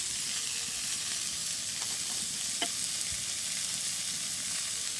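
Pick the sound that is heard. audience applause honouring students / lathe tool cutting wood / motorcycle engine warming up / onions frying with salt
onions frying with salt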